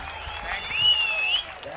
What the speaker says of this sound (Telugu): అందరూ ఒక్కసారి లేచి నించొని ఆయనకి ఒక్కసారి చప్పట్లతో ఆయన్ని ఒకసారి థ్యాంక్స్ చెప్పవలసిందిగా కోరుతున్నానండి